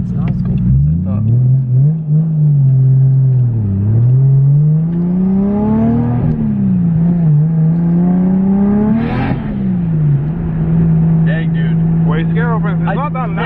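A Toyota JZX100 fitted with a titanium exhaust revs and burbles at close range, the engine rising and falling through several throttle blips over a steady idle, with someone talking over it.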